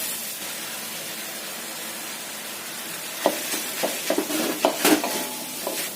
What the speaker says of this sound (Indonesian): Kalau udah tercium bau enak-enak dari bumbunya, tambahkan tahu, wortel, daun bawang. Kita cemplungin semua sekalian.